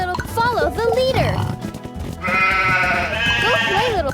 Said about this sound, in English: All right, you chilly sheep.